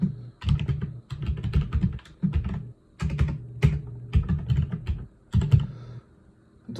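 Keys clatter on a computer keyboard as a command is typed, coming in quick bursts of close, crisp taps with short pauses between them.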